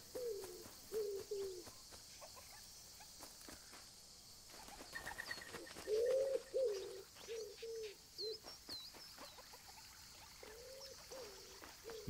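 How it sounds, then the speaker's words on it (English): Repeated soft pigeon-like cooing phrases recur across the scene in the video game Alba: A Wildlife Adventure, with faint chirps and a steady ambient hiss, no talking. "So many birds."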